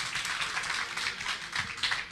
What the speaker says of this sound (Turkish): Önce ona bir şöyle bir alkış